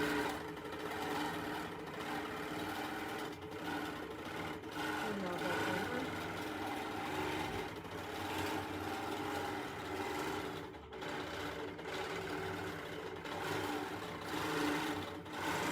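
A small long-arm quilting sewing machine stitches steadily, a continuous close mechanical whir with a rapid rhythmic needle hum throughout, fairly loud, with brief dips and faint talk underneath.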